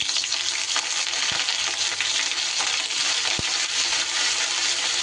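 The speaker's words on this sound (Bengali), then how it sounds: "ফোড়নটা থেকে সুন্দর গন্ধ বেরোলে দিয়ে দেব 1 চামচের মতো গ্রেট করা আদা" Grated ginger sizzles loudly in hot oil with a freshly cooked spice tempering for a vegetarian chhyachra dish, a dense continuous frying hiss with a couple of brief utensil clinks, no voices.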